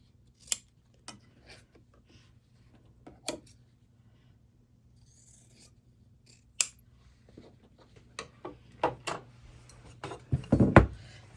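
Scissors trim quilt block fabric in a quiet sewing room, giving sparse, sharp snips spaced a second or two apart at first, then a quicker run of cuts and handling noise at the end.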